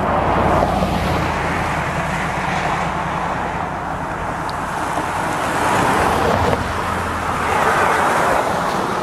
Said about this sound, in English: Lots of traffic, like I said,